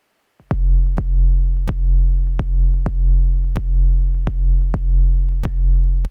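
Heavy distorted trap sub bass kicks hit in a steady rhythm, each with a punchy click and a gritty, buzzing low tail, about eleven hits in a row.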